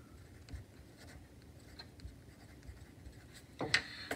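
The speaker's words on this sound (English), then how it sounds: "I'm going to write down emerald green." A pencil or pen scratches softly across a watercolor chart, a faint continuous scribbling with small strokes, close and quiet, ending in a brief louder rustle.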